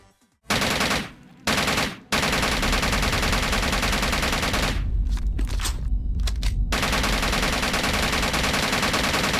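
A video game boss fires a Gatling gun in long, loud, continuous bursts with sharp rapid shots, broken by a few short pauses and a couple of heavier impacts.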